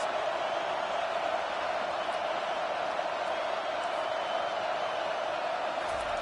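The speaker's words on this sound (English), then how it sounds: "Listen to this crowd just shaking the girders of this place, trying to help their defense." Steady, dense roar of a big stadium crowd at a Georgia vs Georgia Tech football game, loud and continuous with no breaks, a broad wash of cheering that holds at one level.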